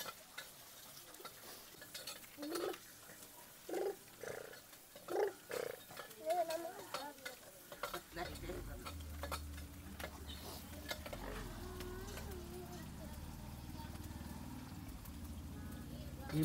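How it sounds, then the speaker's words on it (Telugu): Garlic being stirred into a tempering for pickle in a clay pot, with scraping stirs followed by a steady sizzle of frying, while a person talks over the first half. "ఫైనల్‌గా ఇప్పుడు వెల్లుల్లి అవన్నీ ఏసి మొత్తానికి మళ్ళీ తాలింపు పెట్టాలన్నమాట."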